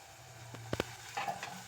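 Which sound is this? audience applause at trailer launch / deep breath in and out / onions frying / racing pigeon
onions frying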